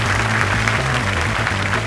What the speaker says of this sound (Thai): ขอเสียงปรบมือดังๆด้วยนะครับ